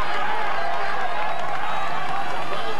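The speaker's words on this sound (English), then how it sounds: "Massive crowds" Massive roadside crowds at the 1996 cycling world championship roar in a dense, continuous wash of cheering and shouting, loud and unbroken throughout.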